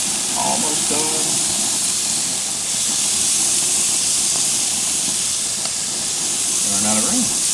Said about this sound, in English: I'll take them and spritz them with our mop sauce